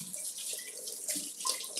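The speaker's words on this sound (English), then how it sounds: "I'm gonna get filtered water from the fridge." Filtered water pours from a refrigerator dispenser into a bottle, a steady close hiss and splash lasting the whole clip without pause.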